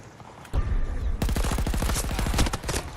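Rapid automatic gunfire in a shooter video game: a thump, then a dense, loud stream of shots firing continuously for nearly two seconds.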